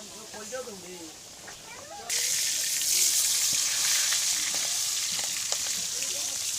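Fish frying in a home kitchen during a family gathering gives a steady, broad sizzle that starts abruptly partway through and holds loud and close, with faint voices and background chatter beneath it.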